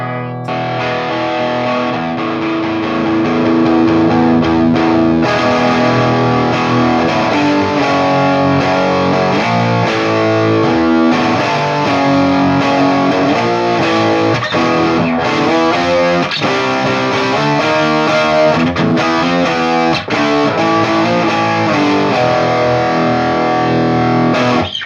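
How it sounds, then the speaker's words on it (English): Electric guitar played through a Boss Super Overdrive SD-1 overdrive pedal, loud and continuous, with thick driven chords and riffs filling the whole passage with no talking. "That might even be my new favorite distortion pedal."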